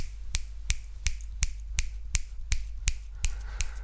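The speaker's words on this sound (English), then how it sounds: "They go, and I can't click my fingers properly, but you're just going to have to imagine." Finger snapping used as poetry-reading applause: a run of about eleven crisp, close snaps at a steady, even rhythm, with nothing else audible.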